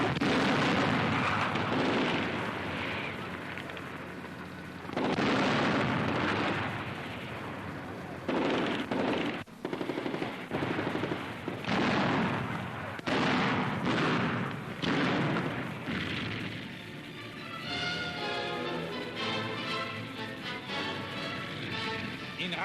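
Artillery fire during a WWII tank battle on the Eastern Front, 1942: repeated heavy booms and blasts, loud and close, with a brief lull and a denser crackling stretch near the end over a constant rumble.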